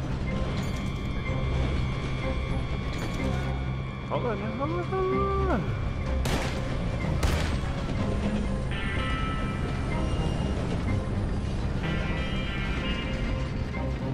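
A moving train in Red Dead Redemption 2 gives a steady mechanical rumble and rattle with occasional metallic clanks and squeals. Someone talks urgently over it.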